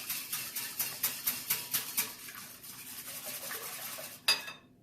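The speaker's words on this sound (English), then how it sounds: "Once we've got that all whisked up" Ingredients for carrot protein muffins are whisked in a bowl with quick, regular strokes that tick and scrape closely, slowing toward the end before a single sharp clank.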